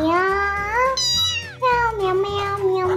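A voice imitates a cat, repeating drawn-out meows one after another, loud and close, with a rising and falling pitch on each call.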